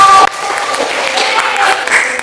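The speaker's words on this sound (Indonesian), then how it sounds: "Beri tepuk tangan dulu kita semua." Children in a third-grade classroom clap together after answering correctly: a burst of scattered, overlapping claps follows a brief sustained tone, fairly close and lively, with uneven rhythm and a few louder spikes.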